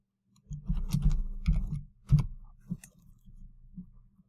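Quiet computer mouse clicks during chart data selection in a spreadsheet, a few sharp taps in short clusters near the start and then sparse single clicks, close and alone with no talk.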